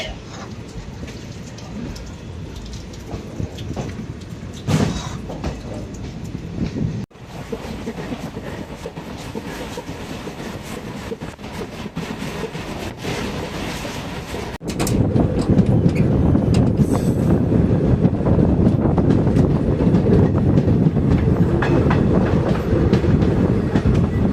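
Passenger train running on rails at a Rajapalayam stop on the Tenkasi line, a steady broadband rumble and rattle throughout that grows louder and denser in the last third, with no clear voices.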